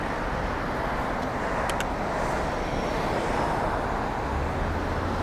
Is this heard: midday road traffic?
yes